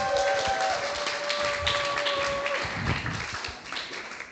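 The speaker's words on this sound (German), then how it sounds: "also dann euer Applaus für die Jasmin und das linke Bild" An audience at a prompt battle event claps, a dense patter of applause filling the room for a few seconds before thinning out at the end.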